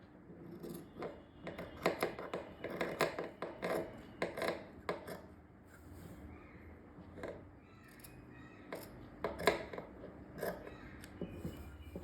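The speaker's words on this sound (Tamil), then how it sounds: "இப்போது இந்த மெயின் கிளாத்தில் நம்ம இதை கட் பண்ணி எடுத்துடலாம்." Tailoring scissors snip through main cloth in a series of crisp, close cuts, bunched at first and then spaced apart, with faint background noise between them.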